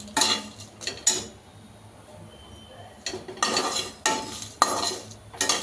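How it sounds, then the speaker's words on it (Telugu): Curry leaves and dried red chillies dry roasted in an oil-free pan for Brahmin-style sambar powder, with bursts of scraping and stirring against the pan separated by quiet pauses, fairly close. "అది కరివేపాకు, మిరపకాయలు ఒకేసారి వేయించేసుకోవచ్చండి"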